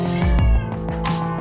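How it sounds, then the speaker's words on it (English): A cat meows loudly and insistently, close by, in a few drawn-out cries. "maybe you can hear my cat"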